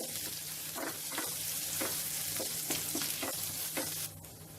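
A tablespoon of cashews frying in a pan over a medium flame, a steady oily sizzle with a spoon scraping and stirring at intervals, close by and continuous with no talking.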